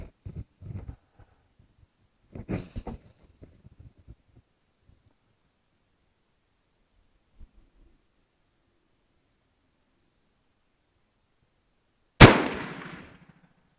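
Single shot from a Danish rolling block rifle chambered in 11.7x51R, a sharp loud report with a brief decaying tail, preceded by faint handling clicks and thuds on an otherwise quiet outdoor range.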